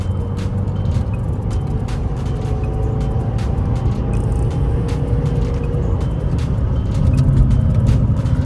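A 2015 Volvo S80 2.0 D4 automatic hums steadily as it drives along, a constant low rumble with road noise and occasional ticks, no talking.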